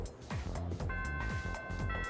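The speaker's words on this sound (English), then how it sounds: "First bell's rung." A chiming school bell tone rings out in the video game Persona 3, a sustained melodic electronic chime over steady rhythmic background music.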